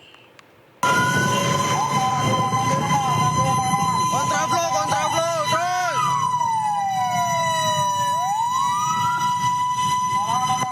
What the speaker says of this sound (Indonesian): Petugas Damkar Kota Depok berpacu dengan waktu di tengah kemacetan saat menuju lokasi kebakaran.